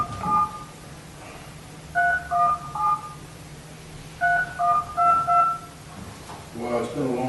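Telephone keypad dialing tones heard during a city council meeting, two quick bursts of several dual-pitched beeps each, clear and moderately loud over a low room hum, with a brief voice at the end.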